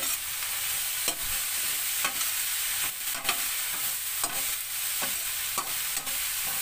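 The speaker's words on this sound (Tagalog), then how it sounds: "Haluin natin mga kablog." A spatula stirs ginisang ampalaya (sautéed bitter gourd) with chicken cubes in a pan, scraping at a steady beat about once a second over a loud, continuous sizzle.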